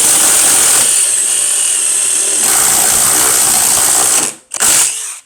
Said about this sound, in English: Next up, we're going to be using a 3/8 drill bit.